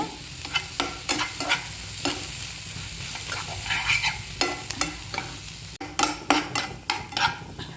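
Masala with pepper sizzles and fries in a pan while a spoon stirs and scrapes repeatedly in irregular bursts, close and fairly loud.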